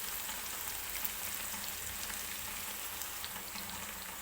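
Tomato frying in oil in a pan gives a steady, even sizzle and crackle throughout, close and moderately quiet, with no talk.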